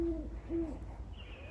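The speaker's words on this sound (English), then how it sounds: "I just heard the owl." An owl hoots twice in close succession outdoors near a beach, clear low calls over steady wind and surf rumble, followed by a faint high tone.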